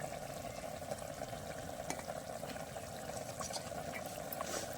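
Fried pangas and tilapia fish go into a simmering taro curry in a pan, giving a soft, continuous sizzle and bubbling at a low, even level with no one talking.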